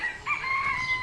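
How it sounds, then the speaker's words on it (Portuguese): A rooster crows once, a single drawn-out, tonal cock-a-doodle-doo heard clearly and at moderate distance with no talk over it. "E realmente o galo cantou e Pedro"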